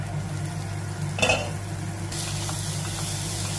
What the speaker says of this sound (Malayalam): അതിലേക്ക് നമ്മൾ ചോപ്പ് ചെയ്ത് വെച്ചിരിക്കുന്ന തക്കാളി ആഡ് ചെയ്ത് കൊടുക്കാം. നന്നായിട്ട് ഇളക്കി കൊടുക്കുക.